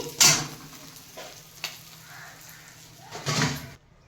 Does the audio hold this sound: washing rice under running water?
no